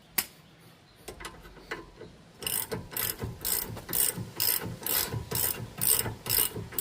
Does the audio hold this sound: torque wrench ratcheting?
yes